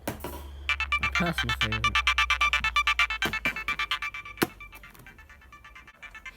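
Nokia 3510i phone playing its Carnival 2 ringtone, a bright, rapid polyphonic melody of bouncy repeated notes heard up close, with a short spoken comment over it near the end.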